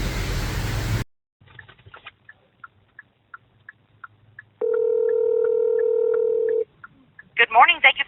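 A recorded phone call to a Holiday Inn in Prince Frederick, Maryland, carries faint ticking clicks on the line, then a steady electronic tone lasting about two seconds, before a voice comes on at the end.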